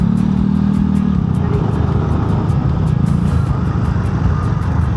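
Motorcycle riding along a road in Bulacan, a continuous mid-pitched engine hum with a brief steadier tone early on, mixed with road noise throughout.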